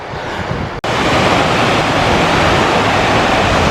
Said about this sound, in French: Une belle petite cascade, hein.